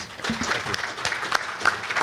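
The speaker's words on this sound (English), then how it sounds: "give them a round of applause" Audience applause at a farming conference fish breakout session, a short burst of scattered clapping from a modest crowd.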